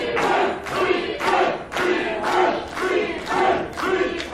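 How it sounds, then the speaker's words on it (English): A wrestling crowd cheering and shouting for the challenger during a Grand Championship match, loud rolling surges of massed voices with rhythmic swells about every half second, no talk over it. "this crowd is rallying behind the challenger"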